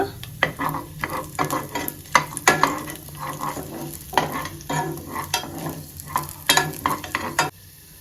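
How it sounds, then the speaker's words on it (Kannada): Urad dal and chana dal fry in hot oil for an onion chutney, a soft steady sizzle broken by frequent close scraping strokes of a spoon stirring the pan, with no voices. "ಇವಾಗ ಇದೆಲ್ಲ ಚೆನ್ನಾಗಿ ಫ್ರೈ ಮಾಡ್ಕೊಳ್ಳೋಣ"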